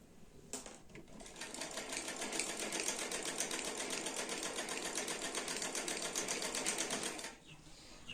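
A sewing machine runs steadily for several seconds, stitching a shirt hem along a drawn line, its fast even whir close and loud with no talk, starting and stopping abruptly.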